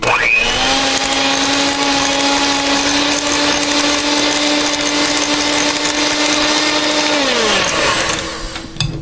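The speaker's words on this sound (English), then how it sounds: "Then we're going to just beat this until it's a little bit fluffy." An electric mixer beats very soft cream cheese, a loud, close, steady motor whine holding one pitch for about seven seconds before spinning down and cutting off near the end.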